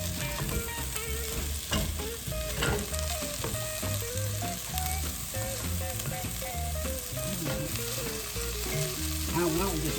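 Eggs with red onion fry in a pan for a New Mexico breakfast, a loud continuous sizzle with occasional scrapes, under music and other kitchen sounds.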